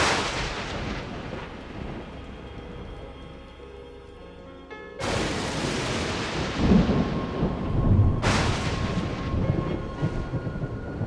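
Night rain hisses steadily while thunder cracks loudly overhead, with one sudden close clap followed a few seconds later by another rolling peal.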